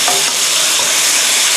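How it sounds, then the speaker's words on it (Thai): Shrimp stir-fried with Chinese wine, sugar and ground pepper, a loud, dense, continuous sizzle with stirring, close and without talk. "โอเคตอนนี้ก็ผัดให้เข้ากันนะคะ"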